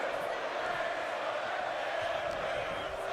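Roaring arena crowd from the wrestling video game WWE 2K25, a main event before Irish fans, holding a steady loud wash of cheering and crowd noise throughout without pause.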